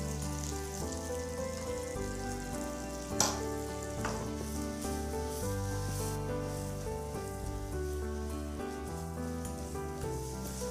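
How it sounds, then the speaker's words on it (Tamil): Ripe chillies with ginger garlic paste and coriander powder sauté in a pan with a steady sizzle and an occasional toss or scrape, partly masked by continuous background music. "நல்லா வதக்கிறேன். டாஸ் பண்ணிட்டேன்."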